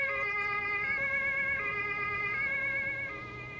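Wailing two-tone Martinshorn siren of an emergency vehicle in the video game EMERGENCY, a steady repeating cycle held loud and continuous with engine rumble beneath, fading slightly at the end.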